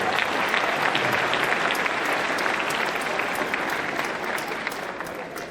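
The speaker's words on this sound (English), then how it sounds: "Let's give Cameron a great round of applause." An audience applauds at a governor's announcement event, a dense, sustained wash of clapping that holds steady for several seconds before easing slightly.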